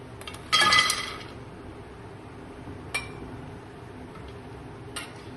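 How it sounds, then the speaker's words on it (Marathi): Fox nuts dry-roast in a kadai over a low gas flame: a short burst of rattling and clinking near the start, then two faint isolated clicks over quiet background. "इथे गॅसवर मी कढई ठेवली आहे आणि एकदम मंद आचेवर आपण आता सगळ्यात आधी हे मखाने भाजून घेऊया"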